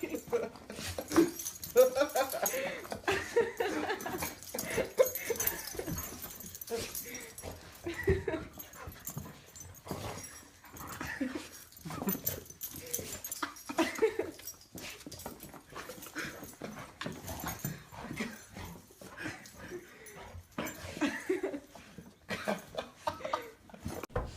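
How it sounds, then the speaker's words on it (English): A dog whimpering and yipping happily, with soft pants and short excited whines repeating in bursts near the listener while people talk over it throughout. "I have never seen a happier dog."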